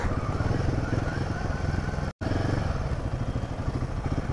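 A heavy motorcycle rides along a mountain road in Himachal, its engine droning steadily and close with a rough rumble, broken only by a momentary dropout.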